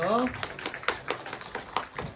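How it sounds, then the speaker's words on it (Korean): A church congregation claps during a worship gathering after a prayer, a scattered run of soft, uneven claps. A brief voice is heard at the start. "하나님 앞에 영광의 박수 올려드리겠습니다."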